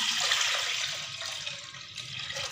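Milk poured into a cooking pot set on a stove for Punjabi kheer. A continuous hissing, splashing stream of liquid, close and fairly loud throughout.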